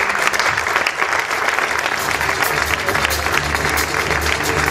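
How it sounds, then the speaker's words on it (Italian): Steady audience applause filling a theatre after a youth stage production, dense continuous clapping holding at full volume throughout with no pauses. "Allora presentiamo i ragazzi, un applauso per Cristiana Letta, Damiano Bruno, Margheri"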